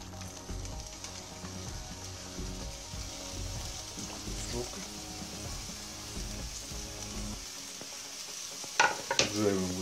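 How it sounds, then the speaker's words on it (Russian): Chopped onion half-rings fry in a pan with leftover fat, a steady crackling sizzle with occasional stirring scrapes that drops away near the end before a few clinks. "Жарим лучок сначала."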